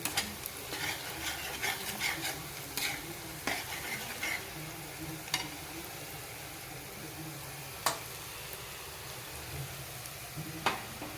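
Chopped onions sizzling and frying in a pan for Mumbai pav bhaji, a steady soft crackle with occasional sharp clicks of stirring, moderately quiet and close, no talking.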